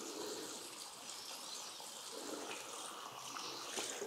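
Water runs and trickles steadily as foam is gently rinsed off a hair transplant donor area, a soft continuous shower-like flow, close and even, with no talk.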